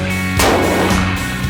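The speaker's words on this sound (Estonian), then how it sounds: "Teeme igaks juhuks mõned paugud veel, aga muidu laseb täitsa kenasti." A single loud rifle shot from a SAKO rifle firing lead-free Powerhead Blade ammunition outdoors, a sharp close crack at the start that rolls off into a long echoing boom, with no talking.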